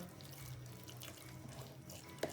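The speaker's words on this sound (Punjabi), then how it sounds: "ਅਭੀ ਪਾਣੀ ਹੋਰ ਪਾ ਲਓ ਆਪਾਂ ਪਾ ਸਾਰਾ ਪਾਣੀ ਪਾ ਲਓ" Water splashes and runs steadily, poured during home cooking of saag with maize flour, faint and close with a small clink at the end.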